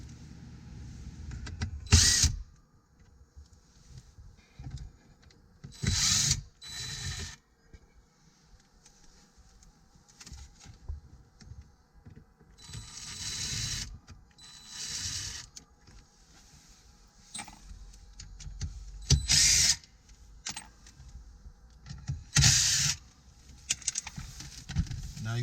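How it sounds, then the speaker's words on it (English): Torx screws being unscrewed from the radio and monitor of a BMW F30 dash, heard as scattered close clicks and short rattling handling bursts spread across a quiet background. "Now you will remove the 2 torque screws from the radio and the 2 torque screws from the monitor."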